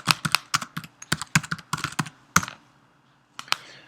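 Keystrokes on a computer keyboard as a sudo modprobe command is typed into a Raspberry Pi terminal: a quick, uneven run of close, crisp clicks, a pause, then a couple of final taps.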